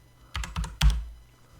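A noisy computer keyboard clatters in three quick bursts of typing, close and fairly loud, with the last burst heaviest before fading out.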